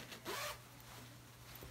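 Zipper on a newly sewn skirt with box pleats and back darts, zipped in one quick rasping pull lasting about a third of a second, close and clear over a faint steady hum.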